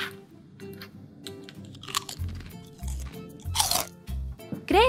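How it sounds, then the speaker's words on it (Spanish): A cartoon dog crunches through a crisp salad of lettuce and tomatoes, giving repeated bursts of crunchy chewing and biting, fairly close, over a light musical background with a rising whistle-like tone at the end. "¡Ahora Chase está comiendo también!"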